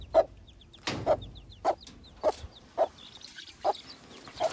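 A hen clucks on a farm in a series of short, evenly spaced calls about every half second, fairly close and clear against a quiet background.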